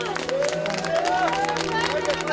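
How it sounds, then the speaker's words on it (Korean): Syrian refugees arriving by boat, many of them families with young children, cheer and shout in joy and relief, a dense crowd of voices close by with scattered claps mixed in. "그들은 살았다는 기쁨과 무사히 도착했다는 안도감에 환호했다"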